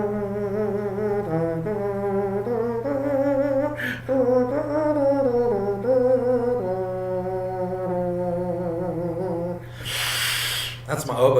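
A voice hums a reedy, nasal melody imitating an oboe, sliding between sustained notes, followed by a short burst of breathy noise near the end.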